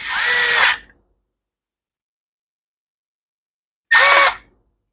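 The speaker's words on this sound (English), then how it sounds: "Been using the same screw gun for a million years, so I don't mind using it to start screws." Two short bursts of a handheld screw gun driving small screws, each about three-quarters of a second, loud and close with a whining motor, separated by silence.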